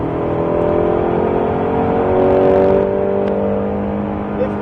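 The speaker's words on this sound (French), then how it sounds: "Allez, accélère encore, accélère encore, accélère encore." A Ford Mustang Shelby GT500 accelerates hard on a racetrack during a driving course, its engine note rising steadily in pitch as a loud, continuous roar with no gaps; an instructor's voice is faintly present beneath it.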